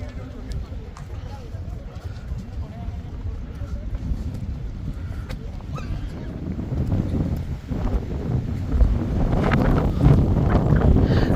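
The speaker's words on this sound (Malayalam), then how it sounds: "ഒരു രക്ഷയില്ലാത്ത കാറ്റാണ് കേട്ടോ ഇവിടെ." Strong wind blasting across the mountain top at Kolukkumalai near Tiger Rock buffets the microphone as a rough, rumbling roar that grows louder and gustier toward the end.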